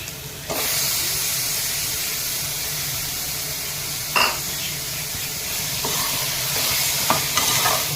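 Chicken pieces stirred and sautéing in a pan with tomato and ginger-garlic paste for a traditional chicken curry, a steady close sizzle and hiss with occasional scraping stirs throughout.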